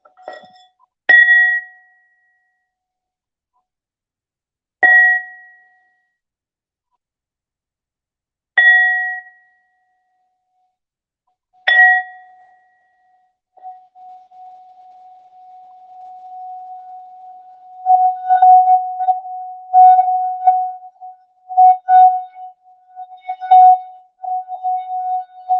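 A ringing instrument sounds the root chakra tone: four single struck notes ring out about every three and a half seconds, then one steady sustained tone hums on, swelling and pulsing in the closing seconds. No voices.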